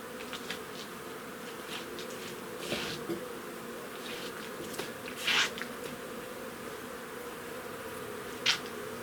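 Steady, dense hum of many honey bees buzzing together, heard fairly quietly, with a few louder individual passes and faint clicks.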